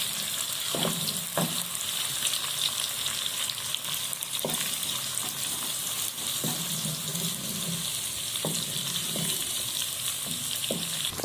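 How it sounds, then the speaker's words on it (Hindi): Onions frying and browning in a home kitchen pan, a steady bright sizzle throughout with intermittent stirring clatters of a utensil against the pan, close and continuous, no talking. "अभी तो प्याज ब्राउन हो रहे हैं।"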